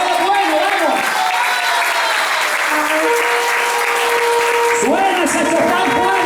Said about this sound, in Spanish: Dale un aplauso, que es bueno, vamos.